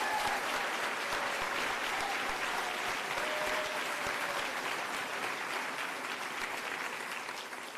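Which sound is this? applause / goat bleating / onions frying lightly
applause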